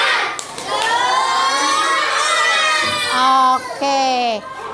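A classroom of schoolchildren chant loudly in unison during a clapping routine, their shouted, sing-song voices filling the room with a few sharp claps near the start.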